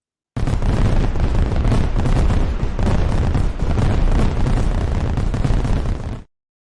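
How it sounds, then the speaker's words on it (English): Fireworks set off at a live student enterprise awards event, a loud, dense barrage of overlapping bangs and crackles lasting about six seconds, then stopping abruptly. "We had a few fireworks left."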